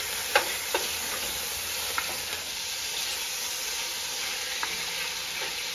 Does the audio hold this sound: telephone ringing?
no